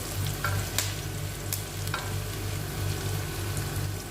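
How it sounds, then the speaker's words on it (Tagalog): Tomatoes sautéing in a pan for pinakbet give a steady, moderate sizzle with occasional stirring scrapes over a low hum, with no talking. "Lagyan natin ang ating kamatis. Gisa lang natin siya guys."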